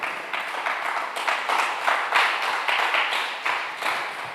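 A church congregation at a Sunday service claims its praise with a moderately loud, continuous patter of many hands clapping, slightly uneven in rhythm, with no voices over it.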